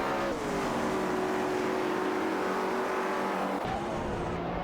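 Race cars roar past one another in an AI racing video game, a steady loud engine drone with pitch shifts as cars overtake and a sudden change near the end, no voices.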